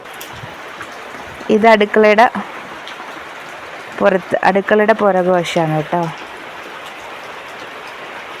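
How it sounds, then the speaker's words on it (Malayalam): Heavy rain falls behind a village kitchen in Kumarakam, a steady even hiss running throughout while someone talks over it in two stretches. "നല്ല മഴയത്ത്, നല്ല മഴയുണ്ട്."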